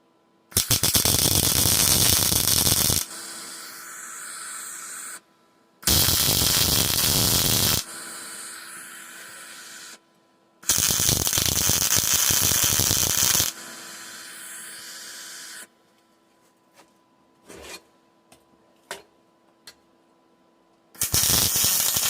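A steel antenna bracket clamped in place is tack welded in three loud, crackling bursts of a few seconds each, separated by pauses with faint clinks and taps, heard close up without talk.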